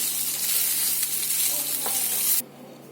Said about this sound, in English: Now I am going to add the boiled rice or the steamed rice, around 1 cup, and then mix it gently.